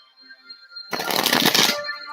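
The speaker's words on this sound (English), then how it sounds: "shuffling." Tarot cards are riffle-shuffled close up, a loud dense burst of crisp papery flutter lasting under a second, rising out of a quiet background with a faint tonal hum before it.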